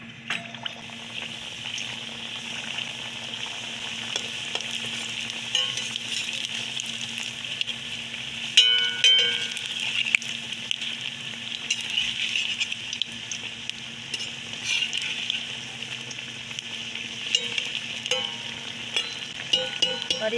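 Laung lata sweets made from leftover ghee khurchan frying in hot refined oil, a steady close sizzle and bubbling that runs the whole time with occasional stirring clatter, and no talk.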